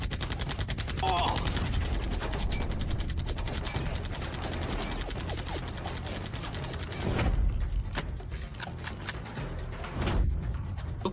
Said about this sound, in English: Why did both guns jam at the same time?